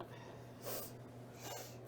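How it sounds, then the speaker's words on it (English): Two short, sharp sniffles about a second apart, fairly close, over a low steady hum with no talking. "Don't even sniffle over there."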